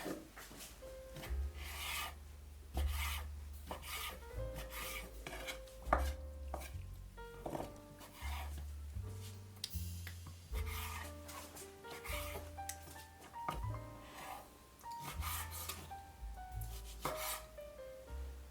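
A knife chops food into chunks on a board for chicken and seafood paella, giving repeated quick dull thuds and scrapes under steady background music.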